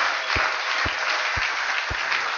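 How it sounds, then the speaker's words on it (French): A church congregation claps in unison, four slow, evenly spaced beats standing out over a steady wash of broadband noise, fairly loud and close. "Applaudissons fort le Seigneur"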